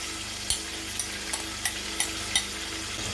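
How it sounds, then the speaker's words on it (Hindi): Biryani masala being stirred into mashed tomatoes in a pan for aloo dum biryani, with a low steady sizzle and evenly spaced spoon scrapes against the pan, close and without talk. "अच्छे से इसे हम मिक्स कर देंगे।"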